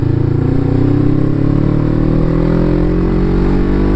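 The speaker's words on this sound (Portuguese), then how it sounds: "um leve toque aí do acelerador você já consegue uma velocidade boa" A Suzuki GS500E motorcycle engine revs under the throttle. It makes a loud, close, steady drone that rises smoothly in pitch as the revs climb, with no talking.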